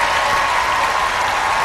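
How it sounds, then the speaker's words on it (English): Dense, steady audience applause at a BET Comedy Jam show, a continuous wash of many hands clapping with no talk over it. "Minister Farrakhan, thanks for joining us. Another big round of applause"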